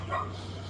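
A dog barks once, brief and somewhat distant, on a neighborhood walk, with steady background hum beneath it.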